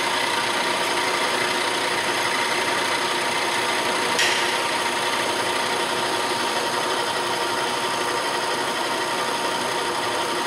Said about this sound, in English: And we will continue like this until all 25 teeth have been cut.